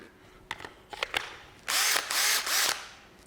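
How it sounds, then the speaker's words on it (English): A cordless drill, a DeWalt-style half-inch model, whirs in three close, loud bursts in a garage, after a few sharp clicks and knocks as it is handled. "come to my drill."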